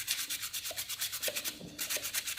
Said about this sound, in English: now I just use a little bit of like a fine sandpaper just to shape everything